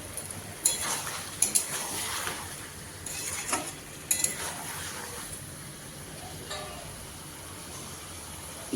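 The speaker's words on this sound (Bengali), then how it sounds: "এবার আঁচটাকে মিডিয়ামে রেখে মাটনগুলো আমি প্রায় 8 থেকে 10 মিনিট ধরে কষিয়ে নেব।" Mutton pieces sautéed in a pan on medium heat, heard as a quiet, low sizzle broken by intermittent scraping and clinking from a spoon stirring against the pan.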